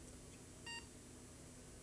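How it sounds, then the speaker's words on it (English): A single short PC BIOS power-on self-test beep at boot, heard once, faint against a steady low hum of machine noise. "A single beep to indicate that the post command, the power on self-test for the machine is successful"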